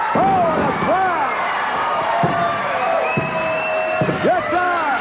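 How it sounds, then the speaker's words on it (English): A wrestler crashes onto the mat from a power slam during a 1986 WWF Championship Wrestling match with the British Bulldogs, a sharp thud rising over a loud, continuous arena crowd that cheers and whoops throughout. "That's a power slam that has all power slams."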